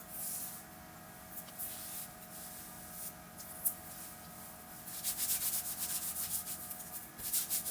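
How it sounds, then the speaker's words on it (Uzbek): Hands rub a collagen hair mask through the hair with a soft, steady brushing friction that swells louder toward the end, close and continuous with no talk. "qo'linglarni yaxshilab ishqalab surib yorasizlar"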